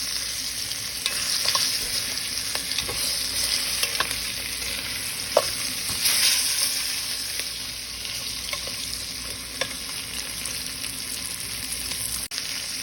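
Beef short ribs sear in a hot pan with a constant bright sizzle and spatter, punctuated by occasional light clicks and shifts of the meat, close up and without voices.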